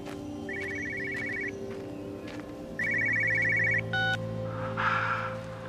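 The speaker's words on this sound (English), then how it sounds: "There's a phone somewhere." An electronic telephone rings in the Everybody's Gone To The Rapture game, two trilling bursts with a pause between, over low ambient drone and scattered game sounds.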